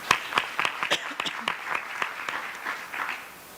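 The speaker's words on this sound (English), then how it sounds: "Let's give her another round of applause." A small audience claps for a school principal, distinct sharp claps at first that loosen into scattered applause and taper off near the end.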